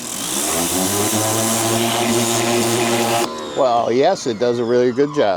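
A DeWalt 2600 PSI jobsite pressure washer with a turbo tip runs with a loud, steady engine drone and hiss of spray, then cuts out as someone talks.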